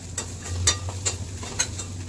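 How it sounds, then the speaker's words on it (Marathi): Onion fries in a miniature cooking pot, giving a soft, faint sizzle punctuated by a few light stirring scrapes, quiet and close with no talk. "तेव्हा कांदा जळायला लागलेला आहे, धूर निघायला लागला आहे, खाली करपायला लागला आहे."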